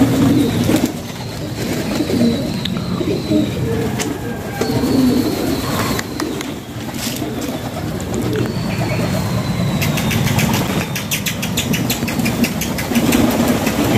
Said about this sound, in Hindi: ये आ गए जी कबूतर